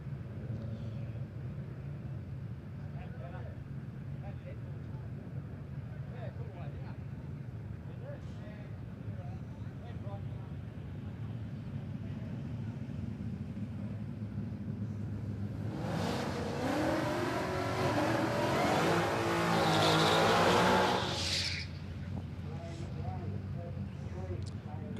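A drag racing car at Palmyra Raceway is heard faintly under announcer commentary at first, then builds to a loud roaring run for several seconds near the end before it fades away.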